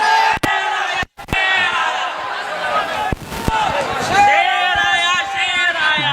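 A large political rally crowd roars and chants back in unison after a Nara-e-Takbir slogan, with loud sustained voices and shouting filling the clip, briefly cut by short breaks.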